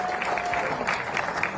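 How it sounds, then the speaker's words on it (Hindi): Audience applause at a Bhojpuri film industry award event, a short burst of dense crowd clapping with some voices mixed in. "जोरदार तालियों से उनके स्वागत करिए।"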